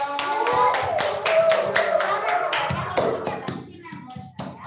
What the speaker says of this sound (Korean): 우리 집사님 나오실 때 박수로 환영해주세요